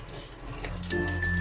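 Water from draining cooked carbonara pasta splashes and runs into a kitchen sink, a steady, fairly faint flow that grows slightly louder toward the end.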